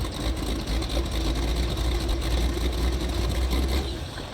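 A truck engine runs at a steady, heavy rumble with a buzzy roar, played back from a recording, loud and continuous throughout with no voices.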